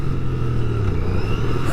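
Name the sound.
Royal Enfield Bear 650 motorcycle accelerating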